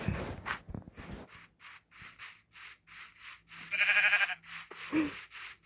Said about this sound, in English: The cool thing is that you can hear the sheep.